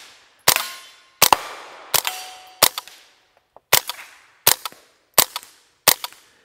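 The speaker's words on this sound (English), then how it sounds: "put one in it, and we're just gonna do some shooting" Tippmann M4 Micro Elite .22LR rifle fired eight times in an uneven series, each shot a sharp close crack with a short ringing decay and pauses of roughly half a second to a second between rounds.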